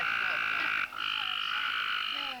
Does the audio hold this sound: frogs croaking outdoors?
yes